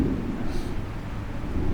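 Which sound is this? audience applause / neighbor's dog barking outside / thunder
thunder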